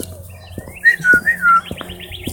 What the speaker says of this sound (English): Look at my pretty bird flying.